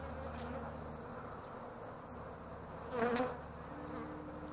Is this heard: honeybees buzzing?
yes